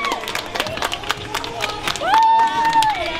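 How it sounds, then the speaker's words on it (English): A crowd applauds and cheers for Jess after her mini scooter ride. The claps are loud and close under general hubbub, and a bright whistle-like tone rises in the last second. "can we please get a big applause for Jess?"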